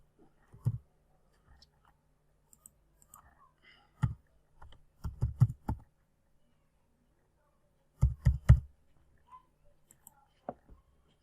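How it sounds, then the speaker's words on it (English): Computer mouse clicks while logging into a WordPress site on localhost, sharp close clicks in small clusters separated by quiet gaps, with faint soft voice sounds. "I have to click login to log into the back end of my website"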